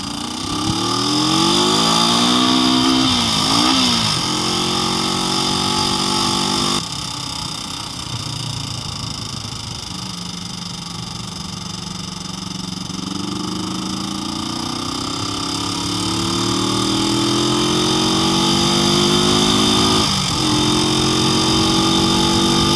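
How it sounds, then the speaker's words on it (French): A motorcycle under restoration drones loudly and continuously while being ridden, its pitch rising and falling as it revs up and eases off, struggling at times to climb in revs. "surtout d'entendre si la moto elle monte bien en tour ou si elle a encore des difficultés"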